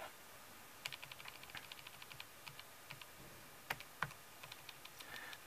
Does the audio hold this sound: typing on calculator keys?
yes